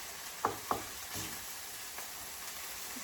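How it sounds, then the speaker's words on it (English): Browning mince and cauliflower rice sizzling in a pan as they are stirred through, a steady frying hiss with a few sharp scrapes and clacks of the spoon near the start. "stir that through."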